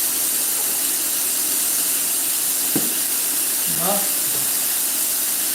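Steak sears in a hot pan for a steak sandwich, giving a steady, even sizzling hiss that runs throughout while someone speaks briefly over it.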